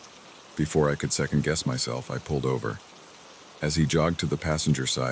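Steady rain falls as a soft, even hiss beneath someone narrating, the patter continuing through pauses in his speech.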